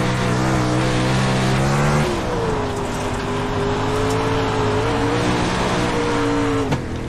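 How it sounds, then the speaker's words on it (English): Race car engine in a racing video game at Lernerville dirt track, loud and close, droning steadily, dipping as the throttle rolls off, then pulling back on, with a faint tire scrub and no talking. "you can see we're just rolling out of the gas, getting it rotated, and then get back into the throttle from the middle out"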